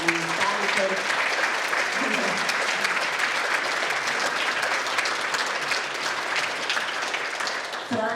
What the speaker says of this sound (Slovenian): predlagam, da mu namenimo en velik aplavz